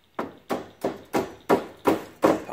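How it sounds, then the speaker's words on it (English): Six evenly spaced hammer blows tapping a metal pin through a hole during an arcade monitor repair, sharp close knocks about a third of a second apart, each decaying quickly, with no talking. "and then you can take your hammer"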